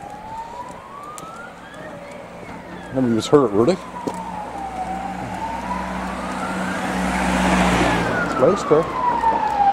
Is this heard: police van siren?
yes